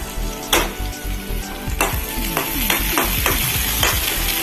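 Onions frying in a pan, a loud, steady close sizzle with several sharp scrapes and knocks of a spoon against the pan.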